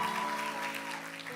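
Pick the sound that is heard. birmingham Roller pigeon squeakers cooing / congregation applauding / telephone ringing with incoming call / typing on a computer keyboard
congregation applauding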